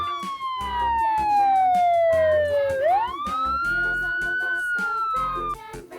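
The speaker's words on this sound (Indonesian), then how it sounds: "ini adalah mobil ambulan" An ambulance siren wails continuously, its pitch sliding down then sweeping back up, loud and close, with a low rumble and faint background music.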